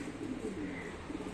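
Wild pigeons, some of them sick birds, coo softly and steadily, the murmuring close by and fairly quiet, with no other sounds over it.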